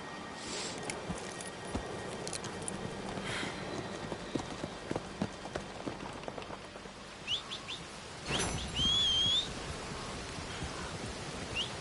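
Horse hooves clip-clopping at a steady gallop in Red Dead Redemption 2, with birds chirping in the background and a brief louder burst near the end.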